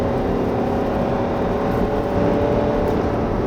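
A 2016 DS 5 with a 2.0 diesel engine speeds up on the road in sport mode, a steady low engine drone with rising tire and wind roar heard from inside the cabin on a gusty day.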